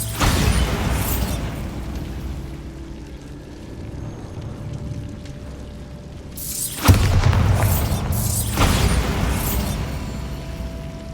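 A Bombarda spell bursts in Hogwarts Legacy with a heavy, rumbling boom that fades over several seconds, then a second loud blast with crackling debris follows, with no talk.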